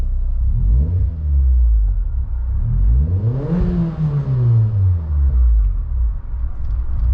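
A Mazda MX5 engine revs up and back down once, the pitch climbing to a peak mid-clip and falling away, with a steady loud idle rumble around it and no talk.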